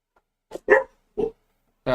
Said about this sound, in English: Dogs are gonna bark now because the doggies are talking to each other.